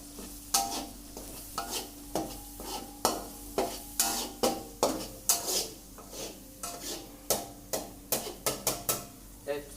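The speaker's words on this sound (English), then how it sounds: "So, I'm already put the seasonings and egg, and let's mix it." Sausage fried rice with fried onions, seasonings and egg stirred in a pan, a spatula scraping and tapping the metal in a steady repeated rhythm over a soft background sizzle, close by with no talking.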